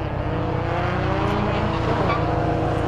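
BMW Compact Cup rear-wheel-drive race car engine at Donington Park during a 2014 race, a loud, steady buzzing roar that holds throughout with faint tire noise.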